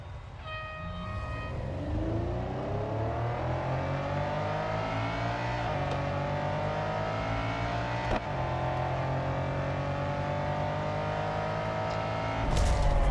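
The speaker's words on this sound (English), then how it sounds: "We'll start off with the Lamborghini Countach. We'll start with drag race." Lamborghini Countach engine in a Real Racing 3 drag race, a loud sustained rising roar through the gears with a couple of sharp shift breaks and a final burst at the end, no speech.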